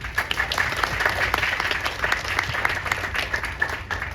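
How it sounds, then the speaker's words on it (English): Audience applause at a community organization's event, a dense steady patter of many hands clapping together throughout, moderately loud with no talking over it. "let's give them a clap"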